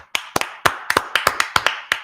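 A congregation claps in a sharp, close rhythm of about a dozen distinct hand claps over two seconds, slightly uneven, with no talk.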